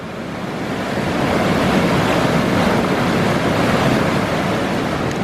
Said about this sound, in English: how much water is tearing down that channel.